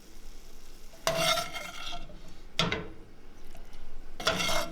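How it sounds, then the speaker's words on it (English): Medium shrimp are stirred and scraped out of a hot frying pan for crab and shrimp scampi. Three brisk bursts of stirring and sizzling scrape rise over a low, steady background hiss, fairly close and with no talking. "So we're going to go ahead and pull it out of the pan."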